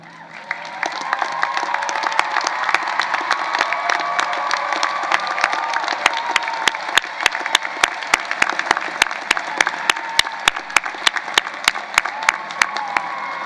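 A large crowd at a CSUN 2018 commencement ceremony applauds and cheers honors graduates, with dense, sustained clapping and scattered whoops that build and hold steady.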